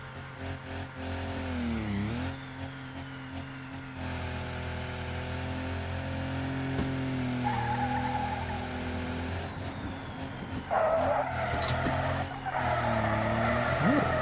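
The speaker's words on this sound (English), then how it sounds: "Will this thing even do like an Australian style burnout? Let's give it a go. Rip with the handbrake." A truck in the BeamNG driving game does a handbrake burnout, its engine droning steadily at high revs while tyres squeal and skid, rising toward the end with a louder screech.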